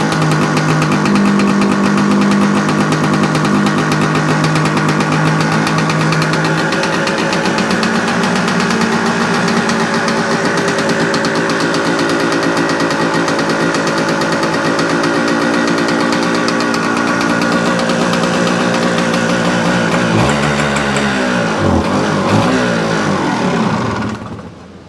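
A 1976 Suzuki TS400 motorcycle engine runs loud and close with a steady throbbing beat, then near the end stumbles and sputters unevenly as it runs out of fuel before cutting off.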